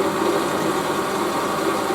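A WARCO WM180 lathe running at 650 RPM turns a 25 mm EN8 steel bar, taking 1.5 mm off the diameter in one pass, a steady close mechanical hum with a faint grinding cutting noise and no talking.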